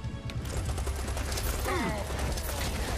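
Minigun fire from the video game Serious Sam 4 rattles as a dense, continuous stream of rapid shots, loud and close, with a brief descending whine partway through.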